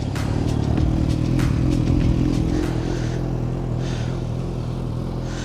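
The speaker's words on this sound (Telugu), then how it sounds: "So let's turn on the bike first." A Suzuki Hayabusa Gen 3 superbike runs steadily with a loud, continuous engine drone and a few sharp clattering transients. No one speaks.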